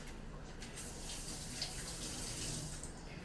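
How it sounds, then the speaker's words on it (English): Kitchen tap running steadily into a sink while hands are washed, a faint, continuous splashing hiss with no talk. "I'm gonna quickly wash my hands off."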